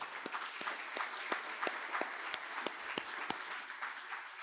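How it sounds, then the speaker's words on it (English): Applause at an annual meeting after a meal rolls on as a faint, distant patter from a crowd, with sharper individual claps poking out of the blended wash at irregular moments. "Let's give them a round of applause."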